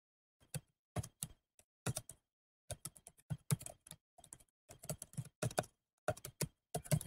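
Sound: typing on a computer keyboard

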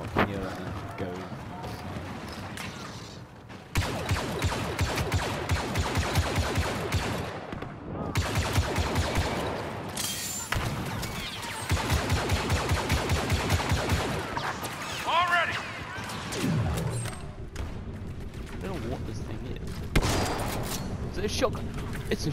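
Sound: shotgun gunfire in a video game

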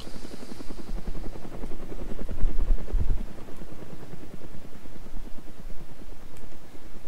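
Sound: helicopter in a video game

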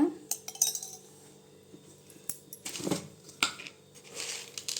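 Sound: fried ingredients transferred into a vessel

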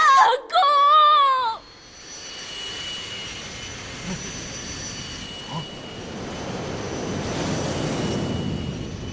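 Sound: EX fighter jet flying, from Ultraman Gaia

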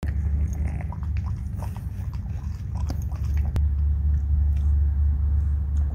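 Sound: chewing grilled greenling fish

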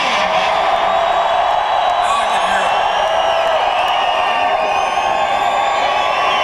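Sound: concert crowd cheering at a show

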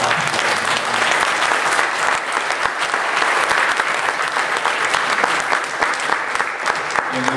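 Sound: congregation applauding pastors

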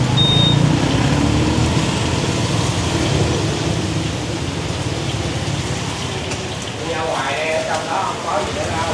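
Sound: rain falling in Saigon street

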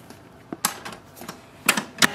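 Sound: HP LaserJet M139we printer setting up after toner replacement

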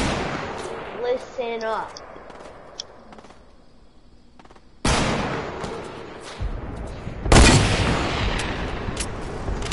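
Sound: rocket launcher firing in a video game

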